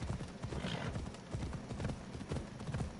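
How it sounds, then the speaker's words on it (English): Horse hooves clip-clopping steadily in the Assassin's Creed Odyssey video game, a Pegasus-styled mount trotting in a continuous rhythm at close range, with a faint whinny-like tone and light game ambience underneath. "You do have a beautiful horse, Lexie."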